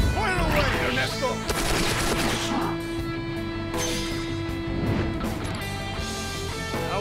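Video game gunfire volley in Persona 5 Tactica, a dense barrage of rapid shots and crashing impacts over game music and effects, loud and continuous.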